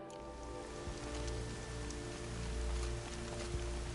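Rain pours during a storm in the video game Horizon Zero Dawn, a soft, steady hiss of falling water with scattered droplet ticks and a low rumble, heard alone and fairly faint.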